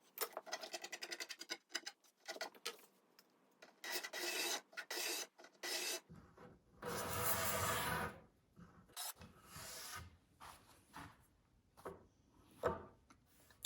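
Card scraper drawn repeatedly across a faceted wooden profile, giving a run of close, rasping strokes in quick succession, then a few longer, broader scrapes; no talking.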